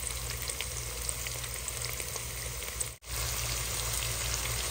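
Garlic, onion, hotdog and corned beef sautéing in a pan, giving a steady close sizzle with faint stirring scrapes that cut out briefly near the end before resuming.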